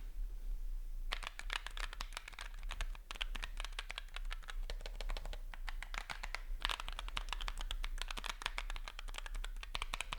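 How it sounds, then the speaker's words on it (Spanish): Typing on a ROG Strix Scope II RX full-size keyboard with optical ROG RX switches, a dense, steady stream of quick clicky keystrokes recorded close, with no voices. "Encontramos switches ópticos ROG RX que suenan"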